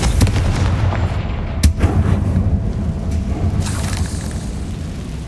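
A Confringo fire spell exploding in Hogwarts Legacy, a dense rumbling blast with a sharp crack partway through and sustained low roar, loud and close, with no speech.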